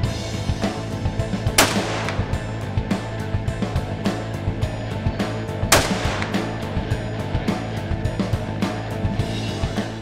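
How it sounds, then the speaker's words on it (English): Rifles fired at a shooting range, with two loud sharp shots several seconds apart over a steady rumble and faint clicks of handling nearby. "it is time to hit the range and make sure those rifles are dialed in"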